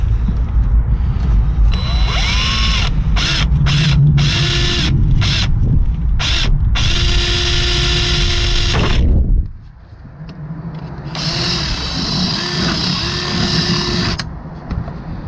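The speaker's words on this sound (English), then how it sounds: "Drill through here, so you can cable tie." A power drill boring through the plastic front bumper of a Mini, loud whining bursts that start and stop several times, then a long sustained run, a pause, and another steady stretch of drilling up close.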